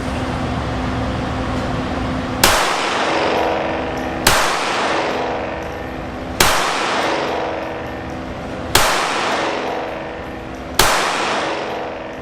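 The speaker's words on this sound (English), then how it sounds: "Check out some more shooting footage" Glock 44 pistol fired on a range, five loud single shots spaced about two seconds apart, each with a sharp crack and a long ringing decay, no talking.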